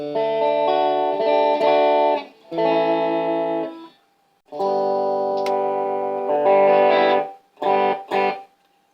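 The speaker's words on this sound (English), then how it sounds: "The humbucker sounds quite bright for a humbucker." A Harley Benton ST-70 electric guitar is played through its humbucker pickup with a bright, effects-laden tone. Several sustained chords and phrases ring out with short gaps between them, ending in two quick stabs.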